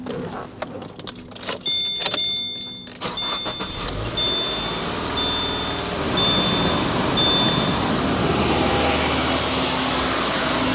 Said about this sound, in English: All right, let's start the car up.